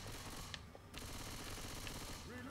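Gunfire in Left 4 Dead 2 plays as quiet, dense rapid-fire crackles amid a busy in-game mix, with faint voice sounds near the end.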